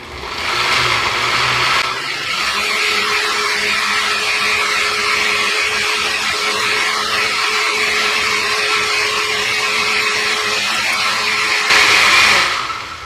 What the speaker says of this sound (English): So we're just gonna blend this up.